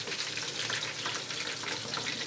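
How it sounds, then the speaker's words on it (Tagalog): Close, steady bubbling and hissing of a pot of chicken à la king boiling vigorously, a continuous rough wash of sound with no pauses. "Kumukulo na siya"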